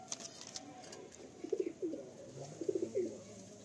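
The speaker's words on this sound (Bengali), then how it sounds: "এরপরে এক সেট পায়রা দেখুন আপনারা" High-flying tournament pigeons coo softly in a few short bursts, close by, with faint chirps and light background noise between the calls and no speech.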